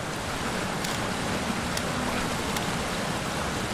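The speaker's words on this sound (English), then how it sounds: "It's raining and we've got water on the front of the lens" Rain falls outdoors on a rocky coastal landscape, a dense, steady hiss of drops with wind and surf blended in, constant and loud throughout.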